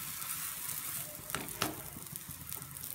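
Biscuit bholi fries in ghee with a soft, steady sizzle, broken by a couple of brief crackles and stirring sounds near the middle.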